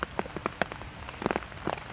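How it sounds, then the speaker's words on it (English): Raindrops strike the camera in scattered, irregular taps, close and crisp over a soft steady patter of rain, no voices. "Probably getting some raindrops hitting the screen or something."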